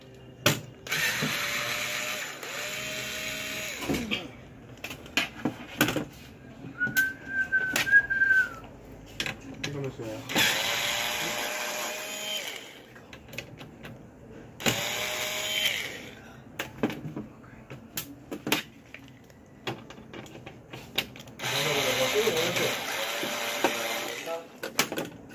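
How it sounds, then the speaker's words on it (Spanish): Screwdriver turning a screw out of a Sanyo LCD TV: repeated ratcheting clicks in several bursts of a few seconds, close and fairly loud, with a brief whistle-like squeak between them. "Vamos a proceder con quitarle ese tornillo."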